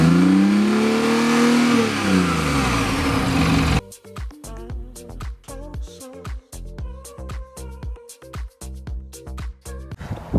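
Sports car that reaches 100 km/h in 4.4 seconds, its engine revving loudly up and down close by, then a choppy stretch of rapid throttle blips and bursts.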